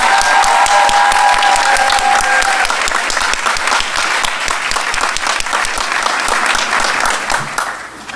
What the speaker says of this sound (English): we can give the class of 2017 a better round of applause than you gave them